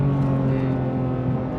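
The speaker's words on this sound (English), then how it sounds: "Hear that blip on the throttle there." A Porsche GT3 Touring with a manual gearbox gives a short throttle blip on a damp road. The engine note is steady and close, with no voices.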